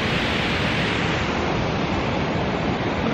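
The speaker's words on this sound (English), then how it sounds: "But waterfall's cute." A winter waterfall rushes in a steady, dense roar that stays loud and even throughout, with no voices over it.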